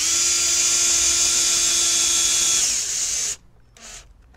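A power drill drives a screw into the joint of a wooden garden planter, a steady high-pitched whine running for about three seconds before cutting off, followed by a brief faint tail.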